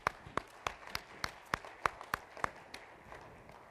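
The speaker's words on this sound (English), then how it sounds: "So we all deserve him a round of applause." Sparse clapping from a small audience at an outpatient coding training session: a dozen or so distinct, fairly evenly spaced claps that fade out after a few seconds.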